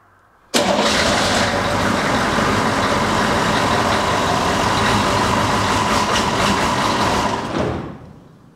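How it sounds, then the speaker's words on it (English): A Humvee's diesel engine cranks on its starter motor in one loud, steady, unbroken whir that lasts about seven seconds and then winds down without catching. "So I'm just gonna have to be cranking on this a bunch until I get some fuel out of this little bleed screw on the"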